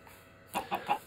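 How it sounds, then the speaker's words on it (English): Chicken clucking in the Minecraft video game: three short, evenly spaced clucks after a quiet start, moderately loud and heard alone. "Hello, chicken."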